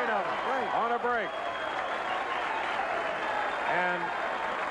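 Applause fills a 1978 professional bowling tournament hall, a steady wash of clapping running under a commentator who talks throughout.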